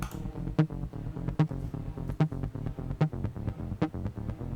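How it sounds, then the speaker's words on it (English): Freshly recorded electronic techno track from a studio session, with a steady pulsing beat of sharp hits roughly every 0.8 seconds over dense layered synth tones, playing loud and continuous with no voices. "This is the track that I've recorded just now."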